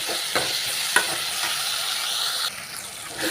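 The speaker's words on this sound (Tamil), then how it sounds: "தக்காளி பாருங்க நல்லா வதங்கிட்டு." Tomatoes sauté in a hot pan for a peanut, garlic and shallot gravy, giving a steady close sizzle with occasional scraping stirs.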